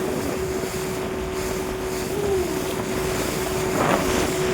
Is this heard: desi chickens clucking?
no